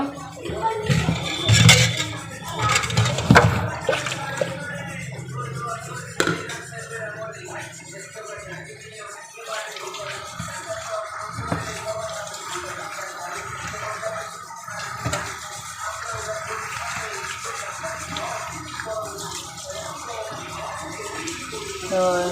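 Freshly cut vegetables being rinsed in a kitchen, running water splashing continuously with handling clatter and louder knocks early on.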